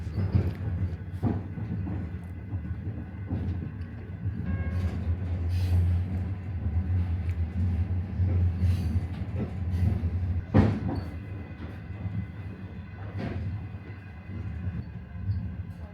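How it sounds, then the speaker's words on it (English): K7039 sleeper train passing Mohe Station, a lonely stop near the end of the Harbin to Mohe line: a steady low rolling rumble with faint rhythmic wheel clicks and a sharp clank near the end, heard from aboard. "The train is now passing Mohe Station, one of the typical lonely stations near the end of the line."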